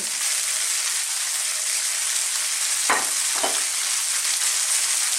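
Spring onion and bean sprouts stir-fry in a pan with cooked tofu for Filipino lumpiang togue: a steady loud sizzle runs throughout, with two brief scraping stirs near the middle.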